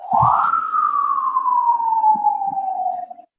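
An ambulance siren comes through a caller's open line on an online call: a single loud wail that rises quickly, then glides slowly downward for about three seconds before cutting off abruptly, with no talking over it.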